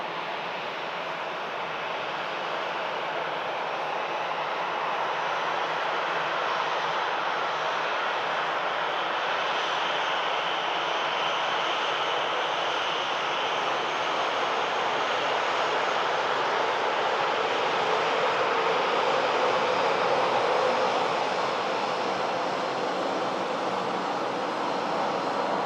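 At Manchester Airport in calm wind, a departing aircraft produces a sustained, smooth jet roar that builds gently and holds steady for a long stretch, fairly distant and unaccompanied by voices.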